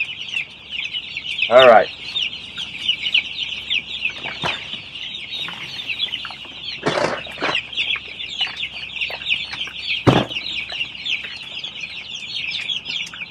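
Chickens on a chicken farm cluck and chirp in a steady, dense chorus with a few louder squawks standing out, close by, while a person speaks briefly.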